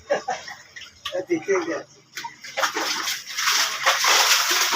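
Rainwater sloshes and splashes as it is bailed by bucket out of a flooded shop, scattered scoops building into a steady watery rush near the mic while voices talk over the first half.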